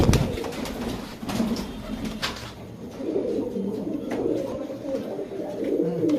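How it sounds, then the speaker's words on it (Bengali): A pair of cream-eyed Giribaz high-flyer pigeons, one male and one female, give soft, low cooing calls that repeat close by, with faint background noise between them. "এটা হচ্ছে মাদি কবুতর আর এইটা হচ্ছে নর কবুতর"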